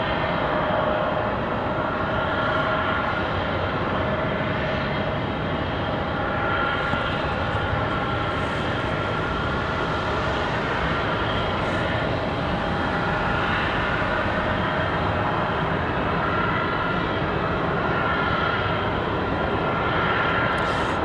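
A United Airlines jet rolling for takeoff at Raleigh-Durham International, a long, steady, moderately loud engine roar with a faint whine and slow swells, no voices.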